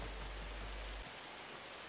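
Steady rain falls in the survival video game Dark and Light, a constant broadband hiss that stays even throughout the short stretch. A low rumble drops out partway through.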